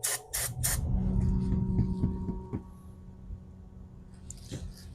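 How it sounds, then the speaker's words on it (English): Cleaner sprayed into a Glock magazine, a few short hissing bursts at the start followed by a lingering low hum and faint clicks. "All I'm going to do is simply spray in here."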